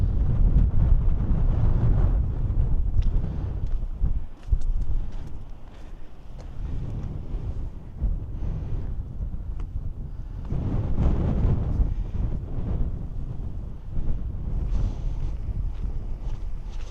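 Steady wind buffeting the microphone, a low rumbling roar that surges and eases throughout, with no talking.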